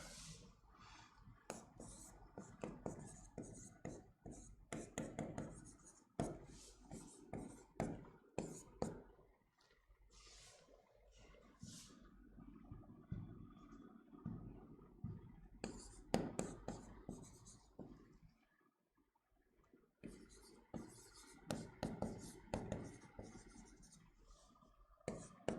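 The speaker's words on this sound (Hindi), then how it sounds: "यहां लिख लो यार।" Pen or marker writing by hand on a surface during a classroom geography lesson, with scratchy strokes in bursts and pauses through the stretch, under and between a teacher's talk.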